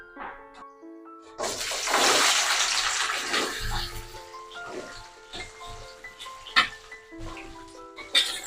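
Ivy gourd pieces tip into hot oil and hit it with a loud, broad hiss that swells and then settles into steady crackling sizzle with scattered pops over several seconds.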